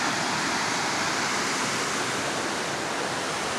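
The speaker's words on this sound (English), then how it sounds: "But water's flowing good." A creek waterfall in a Brooklyn Heights city park near the Parma border, swollen after a week of rain, pours in a steady, dense broadband rush that stays loud and unbroken throughout, with no voices.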